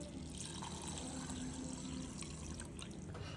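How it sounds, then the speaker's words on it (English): Basmati rice is washed in a bowl of water, giving a steady, soft swish and trickle of water that continues alone at low volume. "First take a bowl, wash and soak basmati rice for half an hour."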